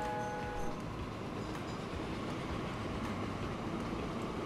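An electric locomotive in the Train Fever game rolls along with a continuous dense rumble of wheels on rails, a brief horn-like tone at the start, steady and alone.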